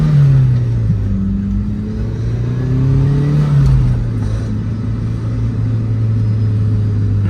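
A car on a test drive hums along with a steady engine drone and rumble, pitch rising and falling gently as it accelerates, heard from inside at close range with no talking.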